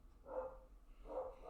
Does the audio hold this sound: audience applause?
no